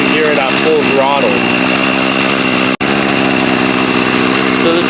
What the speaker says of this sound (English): I'll let this run for a bit, and then I'll let you hear it at full throttle.